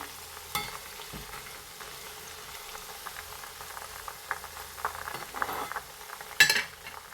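Potato chips deep-frying in hot oil give a soft, steady bubbling and sizzling, fairly quiet, with a few louder clinks and splashes along the way.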